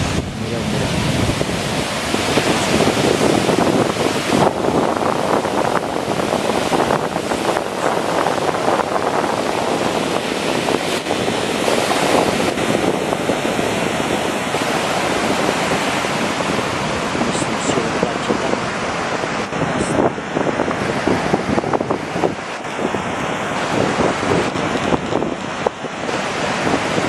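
Sea waves on the large beach at Alvor in the Algarve, a continuous loud wash of surf with heavy wind buffeting the microphone throughout.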